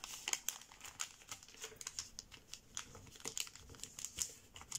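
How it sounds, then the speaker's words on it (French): A sheet of origami paper is creased into a mountain fold, giving repeated close, crisp crinkling and short rustles in a steady rhythm with no talking. "Donc là, je forme le pli montagne."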